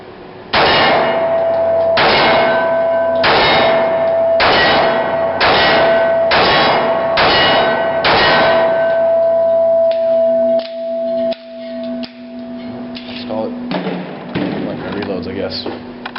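Stainless Colt Combat Commander pistol fired at steel targets: about eight sharp, evenly spaced shots, each with a bright metallic clang and ringing tone, then quieter irregular knocks and clatter.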